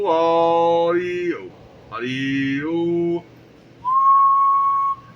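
Someone whistles into a radio microphone in three short bursts, the first two with sliding pitches and a rich buzzy tone, the last a steady single note.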